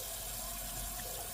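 A tap runs steadily as hands and wrists are wet for handwashing. The flow is an even, close hiss and splash with no breaks and no talking over it.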